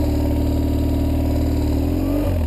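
A BMW motorcycle engine, an F800GS or 1150GS, runs close and loud with a steady revving drone that shifts pitch near the end of the short burst, no voices present.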